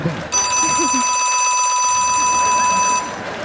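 A loud electric theatre bell, the second bell before a stage play at a festival ground, rings continuously for almost three seconds, then cuts off. Faint background noise surrounds it, and no one speaks.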